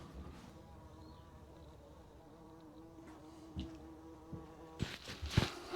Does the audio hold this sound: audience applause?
no